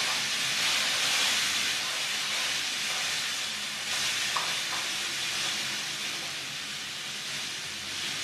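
Zucchini noodles sautéing in a hot pan with chili flakes and hot sauce, a steady, broad sizzling hiss that continues evenly throughout with no talking.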